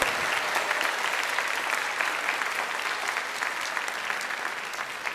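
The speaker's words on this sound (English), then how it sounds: "Give them a big round of applause for all of the support that they gave you." A large crowd at a high school graduation applauds loudly and steadily throughout, a dense wash of clapping with no pauses.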